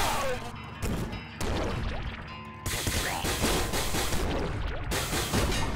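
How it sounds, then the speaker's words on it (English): The flame cannon in the Nuclear Throne video game fires in a steady, crackling, roaring burst. It drops out briefly and then resumes as loud, harsh, continuous game noise with no talk. "I love me some flame cannon action."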